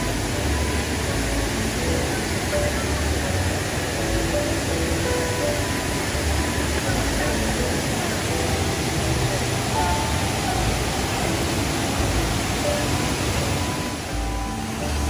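Tad Kuang Si waterfall in Laos, a broad, unbroken roar of falling water that holds steady and loud for the whole stretch, with faint voices buried beneath it.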